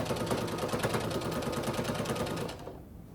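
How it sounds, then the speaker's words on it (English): A sewing machine stitches down the side of a quilt's binding with a fast, steady, rhythmic needle chatter close by. The run continues evenly for a few seconds, then stops abruptly with no talking. "Then you sew down the entire side of your quilt"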